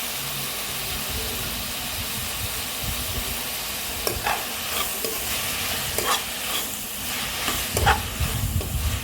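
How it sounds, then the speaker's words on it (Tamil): Onions and tomatoes with turmeric sauté in a pan for an onion masala, a steady close sizzle and hiss broken by repeated scraping stirs of a spoon against the pan, with no talking. "மஞ்சள் தூள் சேர்த்து நல்லா வதக்கி விடுங்க."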